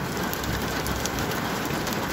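Hail falls in Saudi Arabia as a dense, even roar of pelting ice that stays loud and constant throughout, with no voices over it.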